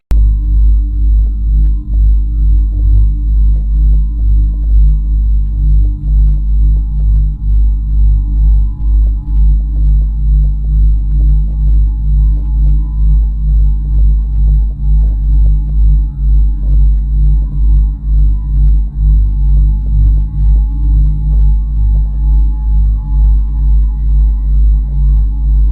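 A NASA space recording attributed to a red giant star in Orion: a loud, continuous low rumbling drone with a faint pulsing texture, steady and unbroken throughout, with no voices.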